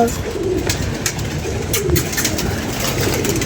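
Pigeons coo repeatedly while pecking at feed from a tray, their soft throaty calls overlapping in a continuous close chorus with small clicks and rustles of grain.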